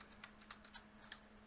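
Quick, light keystrokes on a computer keyboard, about seven irregular clicks in a short burst, close but quiet, with a faint steady hum underneath and no talk.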